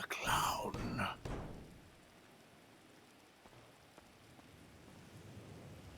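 A storm in GTA V roleplay brings a low, steady wash of rain with rumbling undertones, starting after a burst of louder noise at the opening and continuing faintly to the end.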